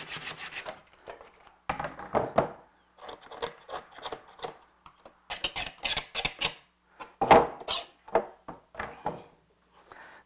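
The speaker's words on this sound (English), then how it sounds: "Make sure you sand everything." Wood is sanded by hand with short, uneven scraping strokes that come in bursts separated by brief pauses, close and fairly quiet.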